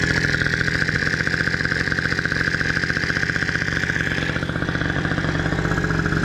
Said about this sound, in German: Motor ist drin mit den 50 Kubik, 17 halber Vergaser jetzt drauf.